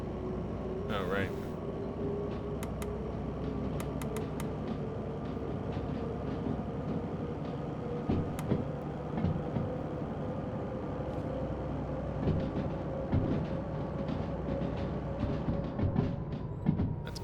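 A rail company train rumbles along the track in the train simulator game Derail Valley, a steady low rolling drone with faint clicks and a long tonal whine, and someone talks over it.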